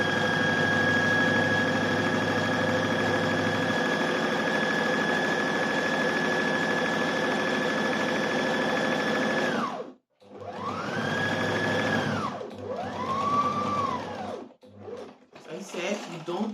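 A sewing machine runs a long gathering line through fabric, a steady, fast, whirring hum for about ten seconds, followed by shorter bursts of stitching that start and stop.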